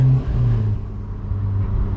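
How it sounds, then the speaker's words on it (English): Exhaust of a supercharged 2006 Honda S2000 (AP2) with a Tanabe Medallion catback and Berk test pipe, a loud close low droning engine note that dips slightly then steadies, heard from inside during a drive with no talking. "The exhaust is a Tanabe Medallion Catback with a Berk Test Pipe."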